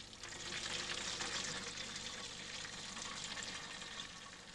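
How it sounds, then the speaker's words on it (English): Water pours steadily into a plastic electric kettle through its spout, a continuous close-up rushing splash with no talking. "as the kettle is filled through the spout."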